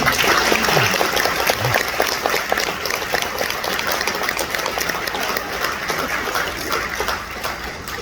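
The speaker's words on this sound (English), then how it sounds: "A round of applause, I think." Audience applause for retired school faculty members at an evening honoring event, a dense steady wash of clapping that holds for several seconds and tapers slightly near the end.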